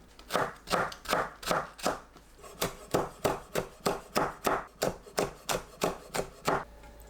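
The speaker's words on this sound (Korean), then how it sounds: "파와 청양고추를 썰어주세요." A knife chops green onion and chili peppers on a board in quick, even strokes, about twenty crisp close taps in two bursts with a brief pause between.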